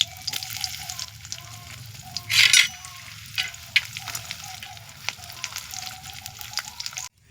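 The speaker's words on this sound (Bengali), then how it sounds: "এবার কড়াইতে সামান্য ঘি দিয়ে দেব কিছুটা তেল, এবং কাজু কিশমিশটা, পেস্তাটা সুন্দরভাবে ভেজে নেব" Cashews, raisins and pistachios frying in ghee and oil in a kadai, a soft steady sizzle with scattered spoon clicks and one brief louder hiss.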